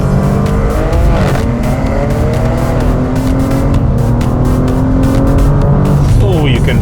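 A BMW M2 with a manual gearbox accelerating hard in second gear, its engine note climbing steadily and loudly from inside the cabin as revs build over several seconds, with a brief dip and more rising pitch near the end.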